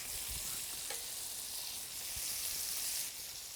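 Onion and meat frying together in a pan give a steady, close hiss of sizzling fat, broken by a few soft low bumps, with no voices.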